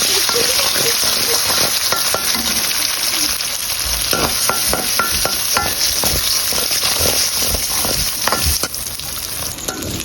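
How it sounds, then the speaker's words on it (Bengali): Eggs fry in oil that was just used for shrimp, giving a steady, bright sizzle throughout. Intermittent scraping and stirring strokes cut in over the hiss, and the sizzle eases slightly near the end. "একই তেলে ডিমগুলো ভেজে নেব"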